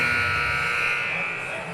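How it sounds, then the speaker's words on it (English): The official scorer's buzzer sounds at a youth 10U ice hockey tournament game, one long, loud, steady buzz that holds throughout and tapers off slightly near the end. "Another buzzer from the official scorer."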